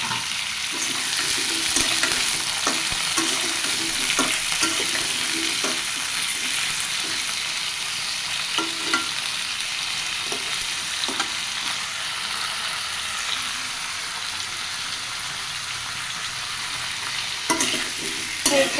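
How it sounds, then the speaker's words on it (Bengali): Potatoes and pumpkin frying in oil with panch phoron, a steady close sizzle with repeated stirring scrapes and clinks of a utensil throughout, no voices. "তেলের মধ্যে দিয়ে দিলাম পাঁচফোড়ন মধ্যে দিয়ে দিলাম আলু মিষ্টি কুমড়ো"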